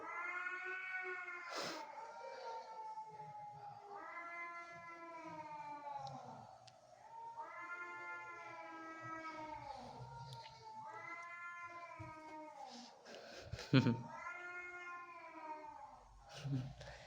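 Cats, an Angora and a local cat, yowl and caterwaul in long, drawn-out, wavering cries that repeat in waves, close and loud, with a few sharp hisses or spits between.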